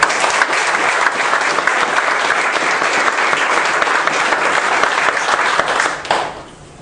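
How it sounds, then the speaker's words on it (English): A room full of people applauds four young award winners at a VFW awards event, loud sustained clapping that runs evenly for about six seconds before quickly tapering off. "I like to give them all 4 of them a big round of applause."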